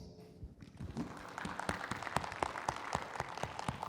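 An audience at a school event applauds as a teacher and his team come on stage, starting faintly and swelling into steady clapping with a few sharp, close claps standing out.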